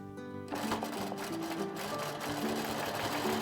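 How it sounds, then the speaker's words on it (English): Quilting sewing machine running briefly to lay a few tacking stitches, a steady close mechanical whir starting abruptly after a moment of quiet and continuing alone. "Few stitches just to tack it down."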